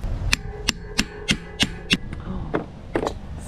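Someone hammers on a stuck wheel of a Giant e-bike, about nine sharp metallic blows in a loose, fairly quick rhythm, close and clear, with a brief pause before the last few strikes.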